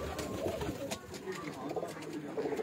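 Teddy pigeons on a rooftop coo in low, repeated phrases, close by, with faint voices and background noise around them.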